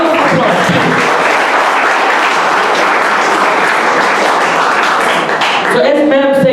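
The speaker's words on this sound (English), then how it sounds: "I need all of you to clap. So a round of applause." A seminar audience claps together in a loud, dense, sustained burst of applause that fills the room and continues steadily throughout.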